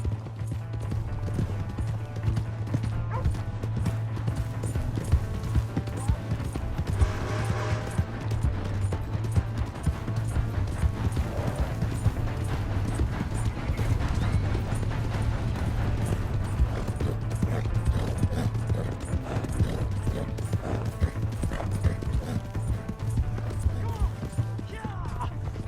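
Horse hooves clip-clopping at a steady gallop in the Red Dead Redemption 2 video game, continuous and fairly loud over a busy game soundscape with shouting voices.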